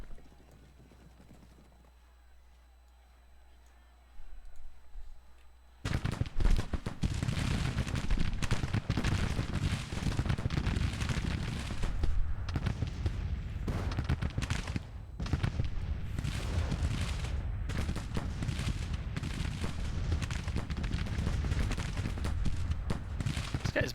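Civil War campaign video game battle with dense, continuous musket volleys and rattling gunfire, loud and chaotic after a quiet opening of a few seconds.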